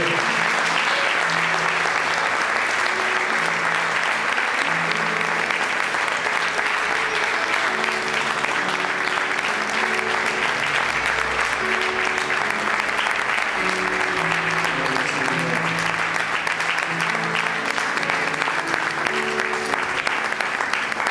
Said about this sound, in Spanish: Vamos a dar un aplauso al Rey Jesús.